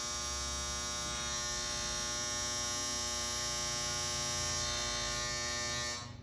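Household clothes dryer running as a steady electric hum and buzz, constant and moderately loud before cutting off abruptly near the end, with no talking.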